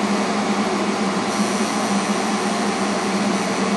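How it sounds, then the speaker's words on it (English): Main burners of a 92% AFUE gas furnace lighting by direct ignition, giving a steady, dense, loud roar that holds evenly throughout with a slight shift partway in. "There's main burner direct ignition to all the burners."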